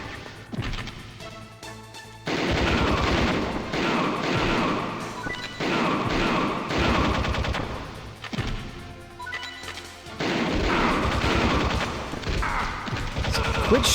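Gunfire aimed at the player in Metal Gear Solid, a video game, sounds as loud, dense bursts of shots and crashing impacts that come in repeated waves and fill the scene with little pause between them.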